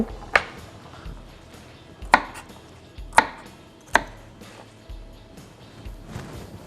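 Four or five sharp knife chops through bok choy on a cutting board, spaced about a second apart, close and crisp with quiet between strokes.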